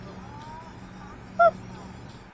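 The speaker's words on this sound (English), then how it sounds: "you hear a lot of little hoots. Those are just little happy call notes as they talk to each other" A common loon gives a single short, soft hoot, a brief call note out on the water against a quiet, low background hum.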